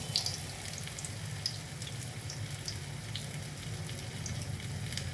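Andhra-style bobbara garelu, black-eyed pea fritter batter, frying in hot oil: a soft, steady sizzle and bubbling with faint crackles, quiet and continuous.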